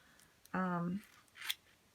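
Scissors snip a sheet of cheap stickers for a scrapbook page kit: one close, quiet cut with a short ringing blade scrape, followed by a softer faint rustle.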